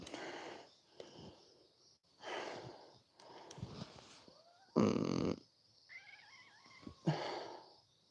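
A cat close by makes a series of breathy, wheezy bursts and a few short meows, separated by brief quiet gaps. There is no talk.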